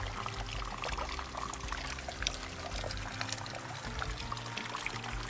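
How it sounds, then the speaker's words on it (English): A small waterfall pours straight over rocks in Big South Fork, a steady, even rush of falling water that holds at a constant level throughout with no voices. "Well, that's a little waterfall that for you out there."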